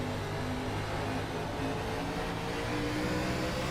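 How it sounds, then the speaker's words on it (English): Stock-style race car engines roar at full throttle around the short oval at Nashville Fairgrounds in a racing video game, a dense, loud, continuous drone of several engines with no talking. "you can really hear the throttle on these cars here riding on the inside"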